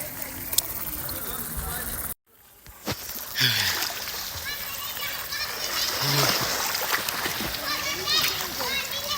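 Splashing from people swimming in an outdoor swimming pool in Zambia, with irregular near and far splashes under a steady wash of water and background voices, including children's chatter.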